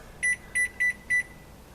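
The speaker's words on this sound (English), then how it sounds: "And I'll set my timer" A kitchen oven timer being set gives four short, evenly spaced electronic beeps, clear and close over a faint steady hum, with no talking.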